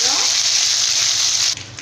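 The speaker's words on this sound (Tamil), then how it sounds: "பாருங்கள், கடுகு பொரியுது." Mustard seeds splutter in hot oil for a spicy Tamil potato curry, a dense, loud crackling sizzle that runs steadily before dropping off near the end.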